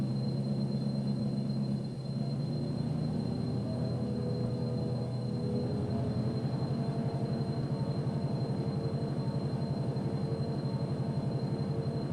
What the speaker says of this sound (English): pulling the train forward